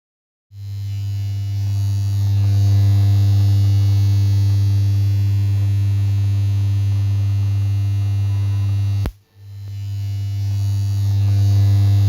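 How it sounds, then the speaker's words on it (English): Heavy 5 kVA transformer melting through a bundle of welding rods, a loud deep electrical hum that starts abruptly, cuts out briefly with a crackling snap, then resumes steady and strong. "The 5 kVA transformer manages to actually melt through the 4 welding rods in no time"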